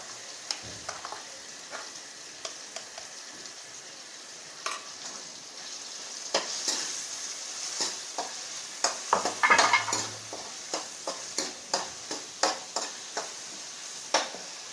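Coconut and onion gravy sizzles in a pan with tomato for potato curry, followed by a spoon scraping and clinking against the pan in a steady, quickening rhythm.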